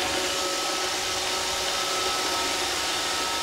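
A fully automatic vacuum cleaner in a house runs with a steady, loud, hissing whine that stays even throughout, with no voices.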